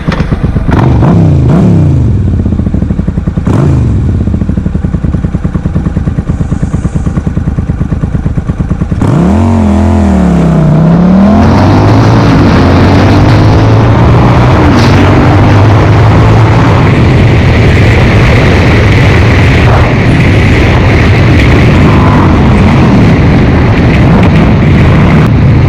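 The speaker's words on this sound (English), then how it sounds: "So here we go, 0 to 60, 2006 Suzuki S50 Boulevard." A 2006 Suzuki S50 Boulevard motorcycle roars through a loud 0-to-60 run, with a few throttle blips at first and then long rising engine revs and gear changes, close and continuous.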